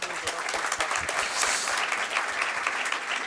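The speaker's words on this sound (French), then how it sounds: "je pense qu'on peut l'applaudir." Audience applause at a sports-themed panel discussion, a sustained burst of many hands clapping together, even and fairly loud across the whole stretch.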